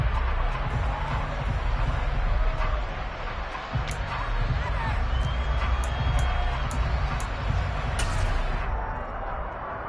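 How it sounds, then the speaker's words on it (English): A football stadium crowd at a Ravens vs Steelers game roars and shouts in a dense, continuous wash of noise, with scattered whistles and cries rising out of it. "Plenty of shouts from this crowd as they watch the replay"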